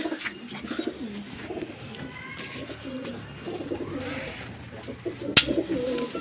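Pigeons cooing in a loft, with repeated soft, throaty coos near the microphone, faint bird chatter behind them and a brief sharp knock near the end.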